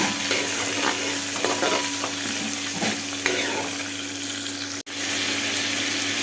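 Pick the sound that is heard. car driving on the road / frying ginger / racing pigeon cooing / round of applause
frying ginger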